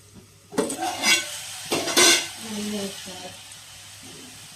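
A spoon scrapes and clinks against a pan while mixed vegetable curry is stirred, two louder stirring bursts standing out over a soft sizzle, with a voice speaking briefly toward the end.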